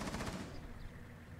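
Gunfire in the tactical shooter game Rainbow Six Siege, a dense burst of automatic shots at the start that quickly fades into a lingering rumble and faint echo.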